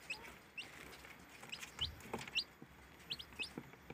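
Small newborn chickens, about two days old, give repeated short high chirps, scattered in quick pairs across the clip at moderate level over a soft background.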